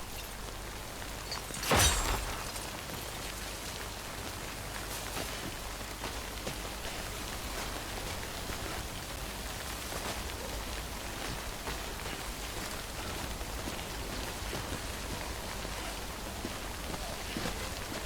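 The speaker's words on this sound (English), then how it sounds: "Don't stay out in the rain any longer than you have to." Steady timefall rain hisses down in the video game Death Stranding, a dense continuous patter with one brief sharp crack early on, and no speech over it.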